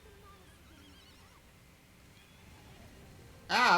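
A horse in The Legend of Zelda: Breath of the Wild lets out a loud, sudden whinny at the very end, after a stretch of quiet game ambience.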